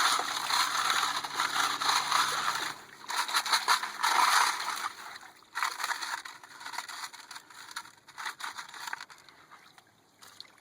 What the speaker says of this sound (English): Getting all these leaves, rinse them off real good.